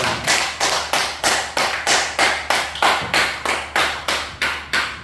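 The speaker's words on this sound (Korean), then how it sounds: "우리 살아계신 하나님께 찬송의 박수 올립시다" A church congregation claps in praise in rhythmic unison, about twelve loud, sharp, evenly spaced claps ringing out in a steady beat with no talk over them.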